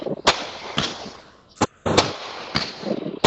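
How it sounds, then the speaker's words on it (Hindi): Firecrackers set off during Diwali in Nashik pop in a series of six sharp, loud bangs at irregular intervals, each trailing into a crackling echo. "अभी तो पटाखे पटाखे बज रहे"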